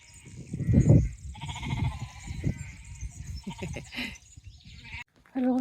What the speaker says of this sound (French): Parce que bon, t'as des moutons qui sont en liberté ici, tu vois.